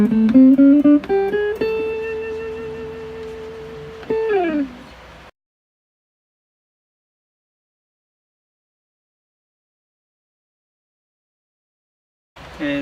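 Thick, jazzy electric guitar tone from a RE/F-TECH modified ST54-95LS with a mid booster: a few sustained notes and a bend ring out for about five seconds, then long silence before another note starts.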